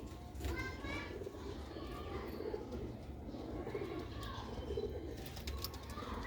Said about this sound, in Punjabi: ਇਹ ਦੋਸਤੋ ਭਰਾਓ VIP ਕਬੂਤਰ ਹੈ, ਆਮ ਕਬੂਤਰ ਨਹੀਂ।